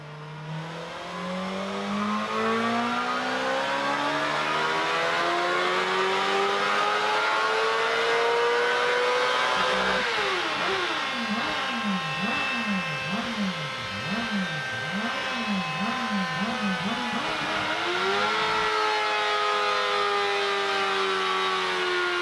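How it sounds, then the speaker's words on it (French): A Honda CBR 600 motorcycle runs at full throttle on a dyno, its engine note climbing steadily through the gears with sharp up-and-down rev oscillations in the middle, loud and close with no talking. "voici la courbe de puissance du 600 CBR qu'on vient de tirer au banc."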